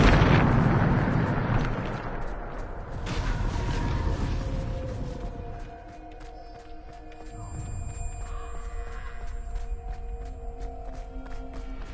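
Bombarda spell explosions in the Hogwarts Legacy video game: a loud, sustained blast opens the clip, followed by more rumbling booms and bursts, with lingering ringing tones and continuous roaring debris through to the end.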